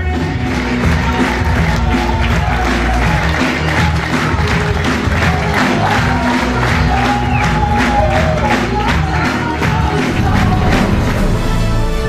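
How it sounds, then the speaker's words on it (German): A festive evening crowd of guests at a party with a live cello band cheers, whoops and applauds; dense, loud and steady throughout, with faint tonal music lines woven through the noise. "Applaus."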